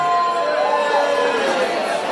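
Crowd cheering and chatter fill a room at a live arts event, a steady, dense wash of many voices with no pauses.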